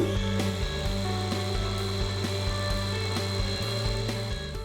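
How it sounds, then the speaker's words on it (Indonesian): Electric food chopper grinding fried chilies for a squid sambal, a steady loud motorized whir with pulsing low hum that runs continuously with no talk. "tinggal kita masukin aja ke dalam chopper. Lalu haluskan sesuai selera."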